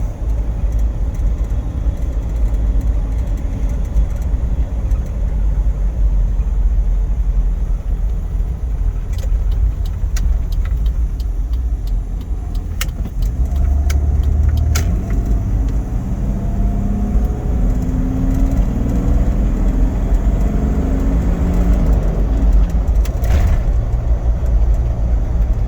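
A 1993 JDM Toyota Land Cruiser 70 Series Heavy Duty 77 on the move, its engine a loud steady drone heard from inside, easing off briefly midway before pulling again with rising revs, no talking.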